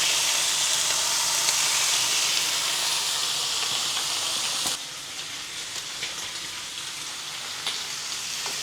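Bacon frying in a dry pan with no added oil, giving a loud steady sizzle and hiss that drops a little in level partway through and carries on with faint crackles and no talking.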